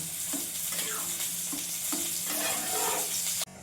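Hot oil sizzles steadily in a pan as a dry red chili and a bay leaf fry for a Bengali papaya curry with masoor dal, with light stirring taps throughout and an abrupt drop near the end.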